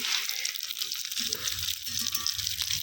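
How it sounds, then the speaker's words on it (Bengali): Steady oil sizzle of rice cakes frying in a pan, a continuous bright hiss with faint clinks underneath, close by and moderately loud. "পিঠা ভাজা হচ্ছে"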